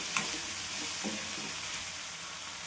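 Tomato, potato and brinjal sautéing in a pan for a vegetable dish, giving a steady close sizzle with soft stirring scrapes and one brief clatter near the start.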